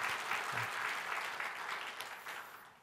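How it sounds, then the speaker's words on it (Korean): A church congregation at a Wednesday prayer service applauds the youth worship team, steady sustained clapping from a sizable crowd that fades gradually, with no talk over it. "우리 찬양팀들도 너무 수고 많았는데 우리 박수로 한번 격려할까요?"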